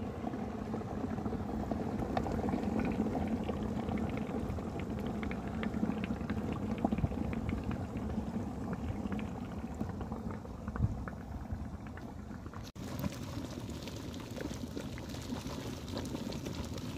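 Quicklime slaking in a half drum of water gives off a steady, close bubbling and seething roar with a low rumbling body, holding at an even loudness throughout with one brief dip near the end.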